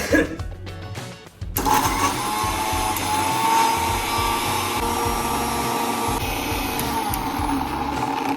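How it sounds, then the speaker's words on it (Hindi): An electric mixer grinder chops tomatoes and ginger, starting after a short quiet moment with a loud, steady motor whine and a rattling, churning grind that carries on to the end. "काम ये था कि इन कटे हुए टमाटर और अदरक को मिक्सर में ग्राइंड करने का"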